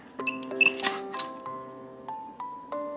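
Printing onto a medicine bottle cap, an iMark handheld inkjet date printer makes soft nearby clicks, brief beeping chirps and a low hum.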